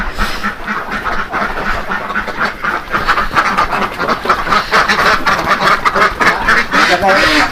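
Egg-laying ducks on a duck farm in Sukabumi quack loudly and continuously as a dense, overlapping flock close by, with people talking among the calls.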